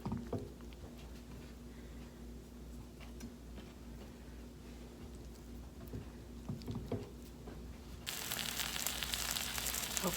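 A veggie and rice burrito, placed seam side down in a pan, starts frying. It is quiet at first with faint clicks, then a loud, steady sizzle rises near the end.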